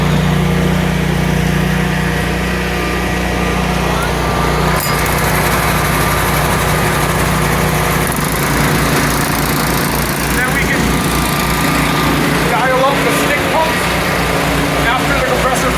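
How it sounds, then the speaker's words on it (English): A generator and then an air compressor powering a Graco E20 spray foam rig start up and run, making a loud, close, steady engine drone that shifts into a deeper pulsing chug midway, with a voice speaking over it. "We'll go ahead and fire up the generator. Now we'll fire up the compressor."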